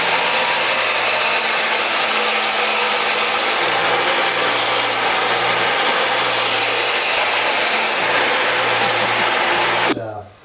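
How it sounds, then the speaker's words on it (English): A power tool grinds and sands the floor pan of a 1965 Ford Falcon, giving a loud, continuous whirring drone with shifting pitch for about ten seconds before cutting off abruptly. "we're gonna come in and just do a little Sanding. little grinding"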